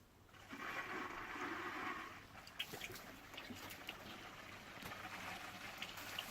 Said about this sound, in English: I'll turn my water on.